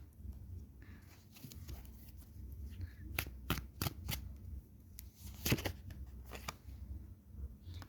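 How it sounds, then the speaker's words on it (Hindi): Tarot cards being shuffled in quick, soft riffling bursts, close and quiet, with a few sharper flicks in the middle. "एक कार्ड और निकालते, उसके बाद हम तीनों कार्ड पे बात करेंगे।"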